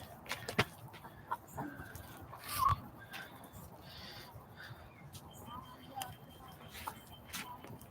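A hen clucks intermittently outdoors, with scattered short calls and soft farmyard noise in the background.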